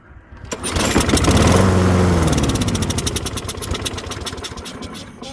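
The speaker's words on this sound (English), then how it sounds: "It'll start and it's like sounds it's gonna start and stay running, but it then sputters out and dies." A Toro Recycler rear-wheel-drive lawn mower is pull-started: the engine catches and roars up loudly, runs rough for a few seconds, then sputters with uneven pulses as it begins to die, close by.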